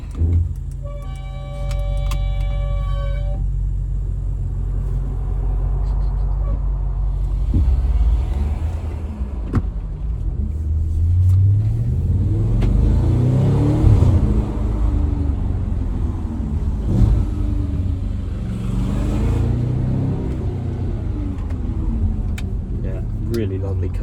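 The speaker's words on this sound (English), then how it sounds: "Starting up the RS5 again." A 2014 Audi RS5 coupé with a naturally aspirated 4.2 V8 FSI engine starts up and settles into a loud, deep idle, then revs repeatedly in rising and falling sweeps, close by, with a person speaking over it.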